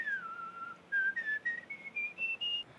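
A person whistles into a microphone in a string of short, clear tones that step upward in pitch, with brief pauses between the notes, close and alone against quiet background hiss.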